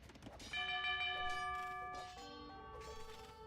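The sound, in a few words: town bell ringing in video game Age of Empires II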